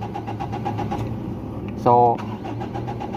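A Mitsubishi Adventure's engine cranks repeatedly in a fast rhythmic churn without catching, with a brief sharp electronic chirp midway; someone talks over it throughout.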